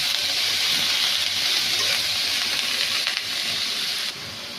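Cabbage, cauliflower, onion stalks and carrot sizzle steadily in a hot pan, a dense continuous hiss that drops slightly in level near the end, with no talk.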